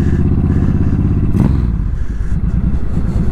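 A small motorcycle running through an exhaust with fiberglass-wrapped baffles, giving a loud, close, throaty idle with a steady low pulsing that swells briefly as the throttle is blipped.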